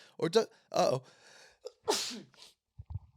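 Two or three sharp sneezes in quick succession, close and loud, with brief breathy sounds between them and a short low thump at the end.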